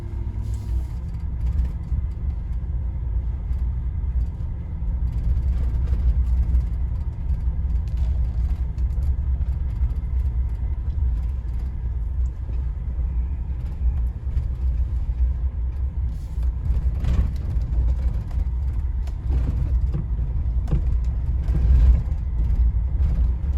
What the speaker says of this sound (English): listen when I'm going slow, and you can hear that rumble